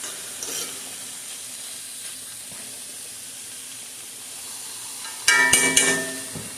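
Italian pork sausage meat cooks in a pan with a soft, steady sizzle, then a short burst of louder clattering stirring and crackle near the end.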